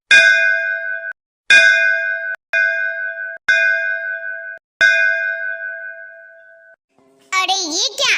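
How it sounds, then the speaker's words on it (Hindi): A temple bell in a cursed temple rings loudly five times in an uneven sequence, each bright metallic clang sustaining and fading before the next strike, followed by a brief high-pitched voice. "श्रापित मंदिर की घंटी बजने लगी।"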